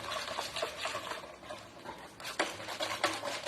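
Madeleine batter being mixed with butter in a bowl, soft wet stirring and scraping strokes in an uneven rhythm, close and fairly quiet.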